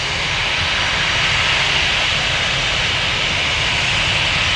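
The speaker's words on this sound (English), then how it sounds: "this is Delta 1212 to Atlanta on an A320." A Delta Airbus A320 airliner's engines roar at Toronto Pearson airport, a loud, steady broadband rumble that holds constant throughout, with no voices over it.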